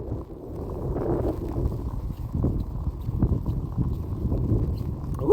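Strong wind blowing through an empty Montreal street during heavy snowfall, a low rumbling roar with gusty swells and buffeting against the microphone, steady throughout with no talk.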